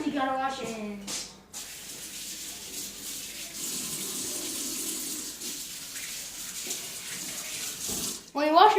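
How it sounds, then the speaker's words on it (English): Hands washed under a running kitchen tap, a steady hiss and splash of water that continues for several seconds, close by, with brief voice at the start and end. "When you wash your hands, make sure you use hot water because cold water doesn't do anything."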